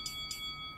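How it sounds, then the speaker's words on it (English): Stock market opening bell in a live day-trading session: two faint, bright metallic dings about a quarter second apart, quiet against a low steady hum, with no talking. "There's the opening bell."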